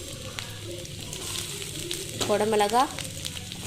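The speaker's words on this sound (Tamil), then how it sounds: "பீன்ஸு சேர்த்து நல்லா வதக்கிக்கலாம்" Carrot, capsicum and beans sauté in oil in a pan, giving a steady close sizzle and frying crackle throughout, while a voice speaks over the cooking.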